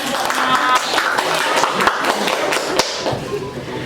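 A classroom group claps after finishing a class presentation, an uneven, close patter of hands lasting a few seconds with faint voices underneath.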